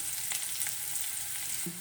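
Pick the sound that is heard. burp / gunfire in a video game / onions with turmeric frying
onions with turmeric frying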